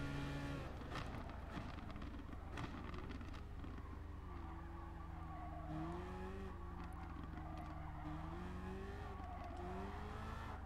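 A race car engine in the Gran Turismo Sport video game, Group 3 endurance racing, revs and shifts through gears with rising and falling pitch, steady and loud, without talk.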